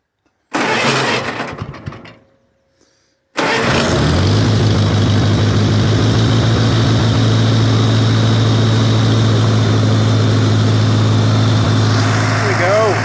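A 1953 Farmall Cub tractor engine with choke applied sputters briefly, goes quiet, then catches and settles into a loud, steady low idle that runs close by to the end, with a voice speaking over the engine.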